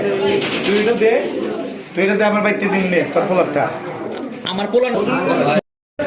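Racing pigeons coo and flutter during collection for a 31 km pigeon tournament, heard close and continuous beneath loud overlapping talk from several people, with a brief dropout near the end.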